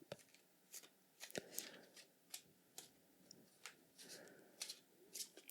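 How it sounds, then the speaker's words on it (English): Tarot cards are shuffled close up in a quiet room, giving soft riffling bursts and crisp flicks that repeat in an uneven rhythm, with no talking. "Just shuffling the cards, shuffling the cards."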